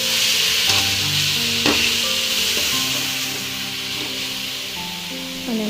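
Tomatoes fry for thakkali thokku, a steady close sizzle under spoon scrapes as the pan is stirred, with faint tonal sounds in the background.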